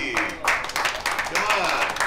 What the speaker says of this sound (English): ladies and gentlemen, give her a big round of applause, Cassie.